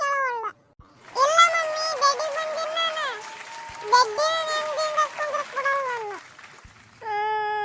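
A cat meows repeatedly in long, wavering, high-pitched cries, loud and close, with short pauses between calls.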